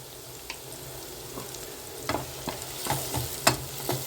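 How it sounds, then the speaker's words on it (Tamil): Onions and slit green chilies sauté in a pan for a prawn gravy, giving a steady low sizzle broken by several sharp scraping clicks of stirring toward the end. "இந்த வெங்காயம் வந்து நல்லா வதங்கட்டும்"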